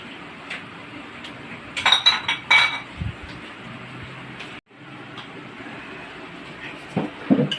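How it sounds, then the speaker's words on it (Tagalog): Tofu and pork being stirred in a cooking pan, with repeated metallic scraping and clinking of a utensil against the pan in short bursts over a steady background hiss, no talk. "Haluin ko na"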